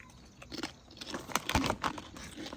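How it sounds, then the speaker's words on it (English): UGLIES potato chips crunched and chewed close up, a run of crisp bites and crackling chews building in loudness, with no talking. "Listen to that crunch."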